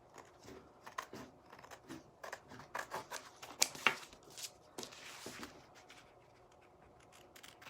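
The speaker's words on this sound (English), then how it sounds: "We want to cut around our lines." Scissors snip around the drawn lines of a reverse canvas fall farmhouse sign, a close series of irregular crisp cuts and rustles that bunch up in the middle, with no voices.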